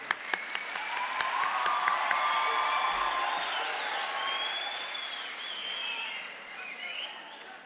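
Applause and cheering from an audience at a career guide expo for the Federal Director of Education, opening with a few distinct claps that swell into sustained, full crowd clapping with scattered whoops, fading slightly toward the end.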